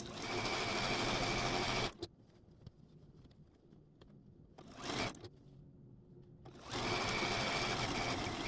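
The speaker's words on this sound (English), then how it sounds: "this row is 96 inches wide, so I've got some sewing to do" A sewing machine stitches long rows of a 96-inch-wide quilt top. It runs in loud, steady bursts of rapid mechanical whirring, pausing for about three seconds with faint handling noises before starting up again, up close.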